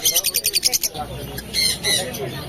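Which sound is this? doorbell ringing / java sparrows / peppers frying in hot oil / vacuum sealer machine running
java sparrows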